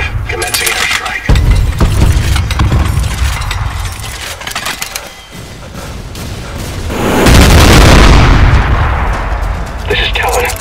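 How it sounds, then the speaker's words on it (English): Airstrike explosions in the shooter game Trepang 2 hit as a chain of loud booming blasts and crackling gunfire, ending in a heavy rumbling detonation that rolls on before the sharper impacts return. "Commencing airstrike."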